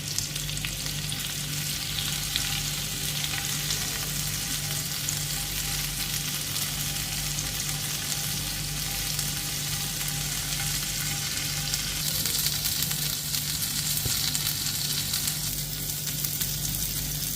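Mutton boti kabab pieces frying slowly in a pan over a low-medium flame, giving a constant, even sizzle with a low hum, close and continuous, with a slightly brighter crackle in the final seconds.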